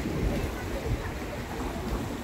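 Sea water rushes and splashes against a rocky shore ledge in Croatia, a loud continuous wash of surf with wind noise on the microphone.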